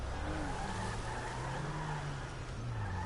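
A car in GTA 5 drives with a steady engine drone throughout, and a long, rising tire screech runs over it as the car skids. It stays loud and close, with no talking.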